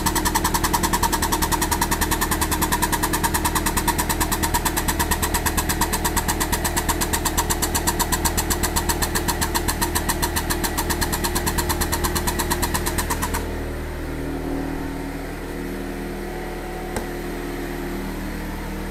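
A hydraulic bead breaker powered by an air compressor runs with a loud, fast, even mechanical pulsing for about thirteen seconds, then cuts off to a quieter low hum, with no talking.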